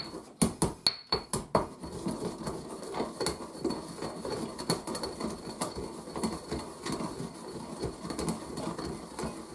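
Cumin and other spices are ground by hand in a mortar for a one-pot meal, starting with several sharp, distinct pounding knocks that give way to a steady, close rhythm of grinding and scraping.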